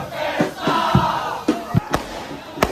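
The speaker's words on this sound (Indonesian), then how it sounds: "siap kembang api ya." Several sharp fireworks bangs burst at irregular intervals over a steady roar of a distant football crowd cheering and shouting, with Indonesian supporters at a match against Vietnam.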